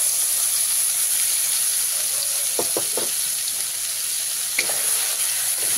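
Ground mustard paste sizzling in hot oil in a pan over a medium flame for a Bengali tilapia tel jhal curry. The frying hiss is steady and close, broken by a few stirring scrapes, and no one speaks.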